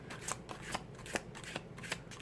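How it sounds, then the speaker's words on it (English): Oracle cards from a Yin Yang deck are shuffled by hand in a quick series of crisp riffles and slaps, close and fairly soft, with no talking over it. "let's pull some cards from the Yin Yang"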